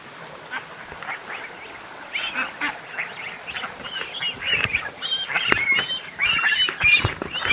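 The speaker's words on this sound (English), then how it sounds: "Stupid geese." Farm geese honk and squawk in a growing chorus, scattered calls building louder and more frequent toward the end, close by and with little talk over them.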